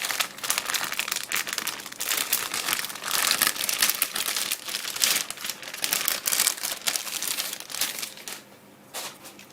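Packaging crinkles and rustles continuously and close by as a Gigabyte A75N-USB3 motherboard is unboxed, the plastic and paper crackling in dense bursts with no speech.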